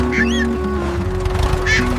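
A cartoon duck gives a couple of nasal quacks over a tonal musical backdrop, one early and one near the end, close and bright.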